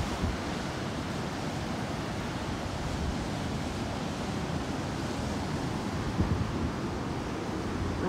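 Ocean waves break along a beach on a sunny day, a constant broad roar of surf mixed with wind buffeting the microphone, steady and fairly loud throughout.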